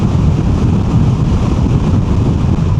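Steady, loud wind buffeting from riding a Moto Guzzi Mandello motorcycle, a continuous broadband rush with no pauses and no talk.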